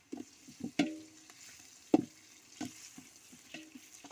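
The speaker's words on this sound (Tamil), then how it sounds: "நல்லா பொரிஞ்சுக்கிட்டு இருக்கு மக்களே" Onion, biryani powder, garam masala and green chillies fry in a pan for chicken biryani. A soft, steady sizzle runs beneath a few scattered spoon scrapes and stirring knocks, all close by, with no voices.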